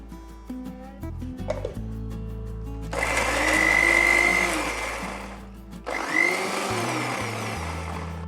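A kitchen mixer grinder blends cooled capsicum chutney with salt and lemon juice, a loud, close whirring that runs for a few seconds, stops briefly, then starts again after some clattering of the jar.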